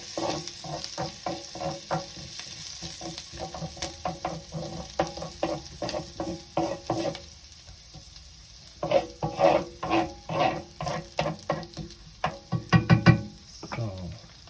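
A whisk stirs butter melting in a pan, scraping in quick rhythmic strokes with a faint sizzle, pausing briefly and then returning more vigorously near the end.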